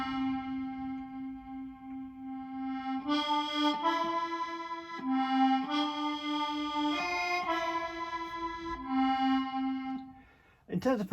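Melodeon in a layered multi-track recording, sustained reedy chords with a held bass note shifting every second or so, bellows-like swells, loud and close, ending with a brief clatter.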